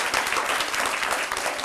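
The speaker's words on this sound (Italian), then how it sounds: "Fate un applauso a questo straordinario caposquadra." Audience applause for a team leader on an Apulian TV food show in Foggia, a steady dense wash of clapping for under two seconds with faint voices mixed in.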